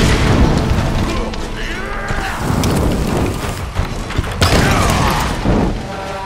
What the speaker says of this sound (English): Did that explosion kill this guy?